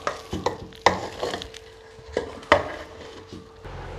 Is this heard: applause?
no